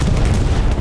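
Bombs from an air strike in Hell Let Loose detonate in a short, heavy, loud rumbling boom that fills the whole moment.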